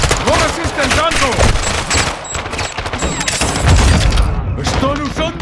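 Sustained gunfire in a video game shootout, dense bursts of rifle and machine-gun shots with heavy booms running continuously, while voices shout over the fighting throughout.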